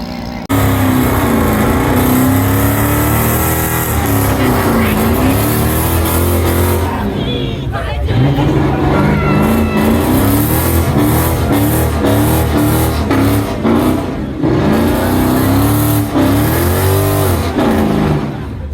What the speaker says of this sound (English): This thing, Dodge Magnum with a Charger front end.